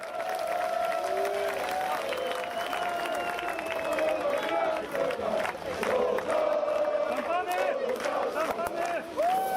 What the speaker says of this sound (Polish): Serdeczne brawa!